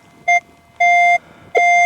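A Minelab X-Terra 705 metal detector sounds three loud, clear electronic beeps while detecting a quarter: a short tone, a longer one, then another starting near the end.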